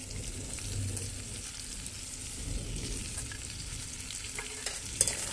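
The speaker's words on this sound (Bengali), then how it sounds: "এবার এর মধ্যে ভেজে রাখা আলুগুলো দিয়ে দেবো" Fried potatoes being stirred into a crab curry in a pan, a steady faint sizzle with soft scraping stir strokes, no talking.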